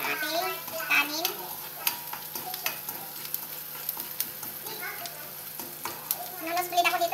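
Onions sautéing in a pan at home, a steady close sizzle with frequent stirring scrapes and spatula knocks, while a voice talks intermittently over the frying.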